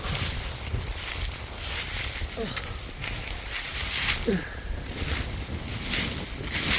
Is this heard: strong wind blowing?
yes